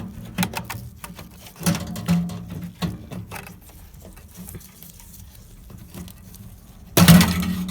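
A water heater burner assembly jiggled back and forth out of its metal bracket, a series of short metallic rattles and clunks at irregular intervals, ending in a louder scraping clatter.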